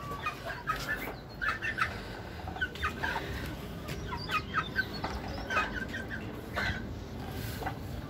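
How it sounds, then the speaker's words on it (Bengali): Hens cluck busily while feeding, a steady scatter of short, soft clucks and chirps from several birds close by, with no talking. "মুরগিরা খাওয়া দাওয়া প্রায় শেষ"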